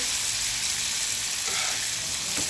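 Fresh sea fish fries in a pan as a loud, even hiss of hot oil with faint scrapes and light knocks while the fish is flipped; no one speaks.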